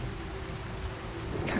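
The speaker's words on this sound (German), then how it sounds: "Warum ausgerechnet jetzt Regen?" Steady rain in the video game Fallout 4 patters as a constant close hiss with no talk.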